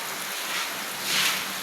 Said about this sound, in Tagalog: Talagang hindi pala makauwi at umuulan.